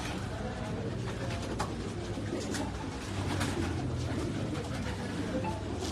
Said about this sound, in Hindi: कबूतर बहुत शानदार है जी।